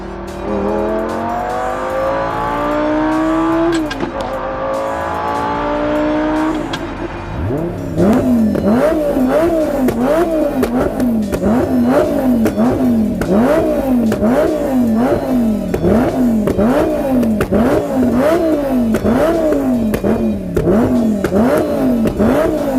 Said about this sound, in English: do another reading on revving the engine, see what happens at full throttle